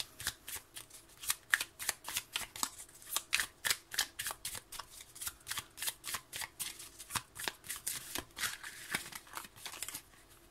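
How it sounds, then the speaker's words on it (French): Tarot cards shuffled and handled close up, a rapid run of crisp papery flicks and riffles in a quick steady rhythm, with no voices. "je vais prendre une autre carte quand même"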